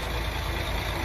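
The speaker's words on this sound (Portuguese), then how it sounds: "de novo esse ônibus barulhento" A noisy city bus in Porto roars as it passes, a dense, steady engine rumble that fills a short stretch without pause.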